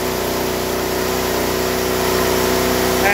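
A V5 AutoGen 48-volt DC automatic-start charging generator runs as a steady, close engine drone whose pitch and loudness creep gradually upward as its RPM rises on its own, with no talking.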